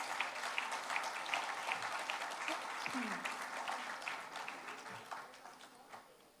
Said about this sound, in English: Let us give a round of applause to our lecturers.